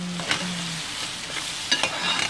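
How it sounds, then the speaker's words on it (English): Red stew stirred in a pot, with a brief run of spoon scrapes over a gentle bubbling sizzle, close and fairly quiet. "Give it a stir."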